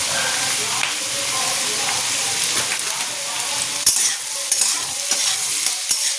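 Food fries in a pan with a bright, continuous hiss and sizzle up close, while intermittent stirring scrapes and clinks punctuate it, growing more frequent toward the end.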